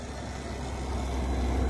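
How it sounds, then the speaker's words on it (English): Steady low rumble of cars passing on a nearby road, swelling slightly louder toward the end with no talking. "Sorry for the cars that go by me, fam."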